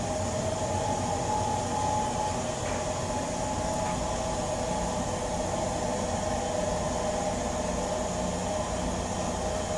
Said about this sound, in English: It's a 50-car string of 40-footers, and it kind of winds around the railroad here a little bit.